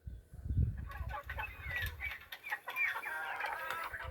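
Backyard farm chickens cluck in a busy, overlapping chorus, with a low rumble and soft flutter underneath at the start before the clucks carry on steadily without any talking.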